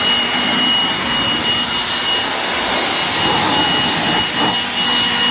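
Pressure water spray rinsing a dirty car engine, a dense, continuous hiss and rush of water that stays loud and steady with small swells, no voices.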